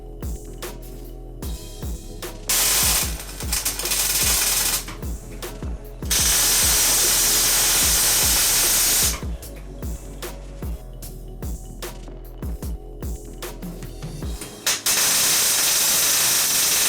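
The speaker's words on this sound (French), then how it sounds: "Allez, il est temps de souder." A MIG-MAG welding gun lays beads up close, a loud crackling, sputtering hiss that comes in repeated bursts of a few seconds with brief gaps between.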